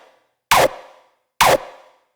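Two punchy, short hardcore kick drum punch-layer hits about a second apart, each a loud broadband thump that cuts off quickly, isolated and close.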